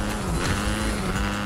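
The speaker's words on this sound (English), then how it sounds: "MJ, I got a car right here." A car engine in Fortnite hums steadily up close, a continuous droning motor tone with slight pitch wobble and no speech on top.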